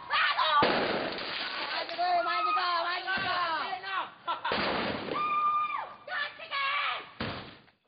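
Firecrackers burst during a street clash between neighborhood residents in Makassar, loud sharp cracks among crowd noise and shouting.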